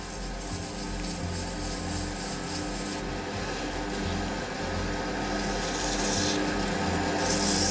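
Sandpaper rubbing across a wood and epoxy resin shaving brush handle, a steady, close rasping scrape that roughens and grows a little louder toward the end.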